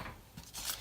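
Scissors snip at a craft table during a paper stamping project, a quick close cut lasting under a second with a soft crunch and no talking.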